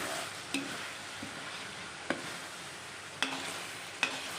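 Garlic sautéing in a pan for pancit canton: a faint, steady sizzle broken by a few sharp spatula taps against the pan.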